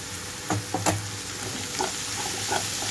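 Ridge gourd pieces added to a pan of sizzling ginger and garlic, a steady frying hiss with a few sharp stirring clanks early on, then a continuous fry.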